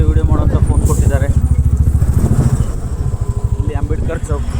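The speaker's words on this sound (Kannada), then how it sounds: "ಶಿವರು ಬೈಕ್ ರೈಡ್ ಮಾಡ್ತಾ ಇದ್ದಾರೆ." A motorcycle ridden at night through traffic in Basavakalyan, with a loud, close, pulsing engine rumble throughout and a passenger talking over it.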